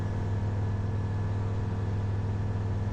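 A light aircraft engine runs at full throttle during a go-around, a steady, loud, low droning hum that holds constant with no change in pitch.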